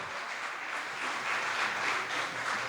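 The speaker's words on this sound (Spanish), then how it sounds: "Den un aplauso a Jesucristo, que es tan bueno." A church congregation applauds, a dense, steady wash of many hands clapping together that swells slightly partway through, with no speech over it.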